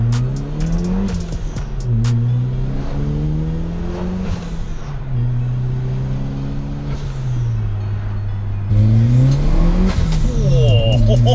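A 1994 Toyota Celica GT-Four ST205 turbo pulls hard from low revs, its engine note climbing loud and close through several rising sweeps and gear changes, with a sharper surge near the end.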